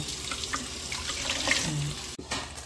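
Running tap water and splashing as an octopus is rinsed and rubbed with salt in a sink, a steady close wash with a brief break near the end.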